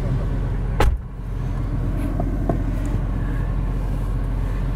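A 1998 Porsche Carrera 2 engine runs with a steady low rumble, broken by a brief thump near the start and a couple of faint clicks.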